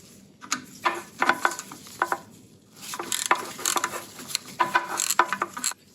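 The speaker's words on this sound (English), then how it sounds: "Crack this bolt loose." A wrench works on a bolt holding a VW power steering pump bracket, giving scattered quiet metallic clicks and ratcheting bursts with short pauses between them.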